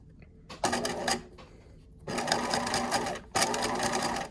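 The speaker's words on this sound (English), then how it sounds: "If you just zigzag from here to here within that area, you'll be fine." Sewing machine zigzag stitching the cuff of a fleece beanie, running in three close, steady bursts of rapid mechanical whirring with short pauses between them.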